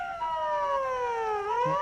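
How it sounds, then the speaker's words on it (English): An ambulance siren wails on a Tokyo street at sunset, a steady wavering two-tone sweep at moderate distance, heard alone without talk. "Another ambulance."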